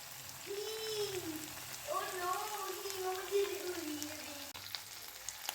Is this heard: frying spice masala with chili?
yes